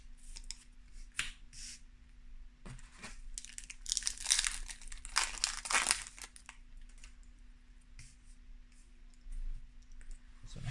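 Crinkling plastic foil as a Yu-Gi-Oh! Lightning Overdrive booster pack wrapper is torn open, with scattered clicks and a burst of sharp rustling and tearing in the middle, close and fairly quiet, with no talking.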